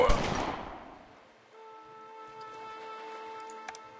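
A short burst of gunfire from the gangster game Omerta: City of Gangsters, a loud crackle at the start that rings and fades, followed by quiet steady game tones.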